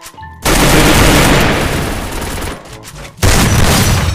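Loud, close gunfire rattles in a Free Fire battle royale match on the Bermuda map, coming as a long dense burst that briefly thins out and is then followed by a second sharp volley.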